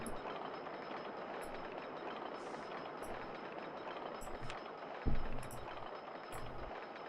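Roller coaster trains running on a track in the OpenRCT2 park simulation game, a steady rumbling rail clatter with faint high clicks throughout and a brief louder thump near the end.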